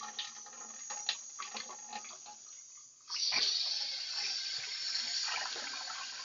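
Running tap water rinses a sprouting tray: a quieter trickle with scattered clatter at first, then the flow opens up into a steady, louder gush close by that fills the rest, no speech.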